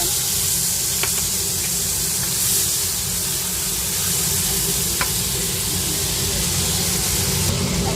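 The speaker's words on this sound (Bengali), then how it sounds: "এখন আমি কালো জিরা আর কাঁচা লঙ্কা ফোড়ন দিয়ে দিলাম" Nigella seeds and green chillies sizzle steadily in hot oil while a stirring spoon makes a couple of sharp clicks in the continuous, close frying hiss, for an ilish fish recipe.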